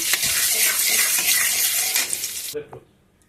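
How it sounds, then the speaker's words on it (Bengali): Butter hitting hot white oil in a kadai sizzles loudly and steadily with a few light stirring scrapes, then cuts off abruptly, leaving faint clinks and a quiet tail. "বাটারটা দিয়ে দিলাম"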